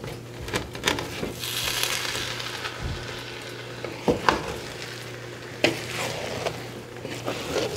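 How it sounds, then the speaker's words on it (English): Rice being stirred in a pot over medium-low heat while cooking Senegalese jollof rice (thieboudienne), a soft scraping and sizzling texture with several sharper scrapes of the spoon against the pot, close and steady. "It's been 15 minutes, so it is time to stir the rice."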